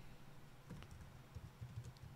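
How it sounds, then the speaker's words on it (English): Quiet typing on a computer keyboard during a live crypto market stream, a soft scattered run of key taps close by with no talk over it. "You guys probably can't see what I'm typing."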